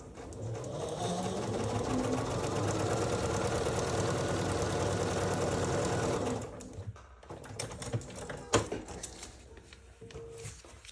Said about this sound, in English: Now let me stitch down right across that line.